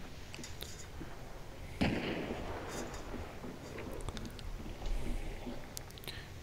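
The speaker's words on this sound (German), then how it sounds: "ich werde beschossen" Gunfire in the game Hunt: Showdown, a couple of sharp cracking shots standing out from a quieter backdrop of scattered pops and ambient noise, moderately close.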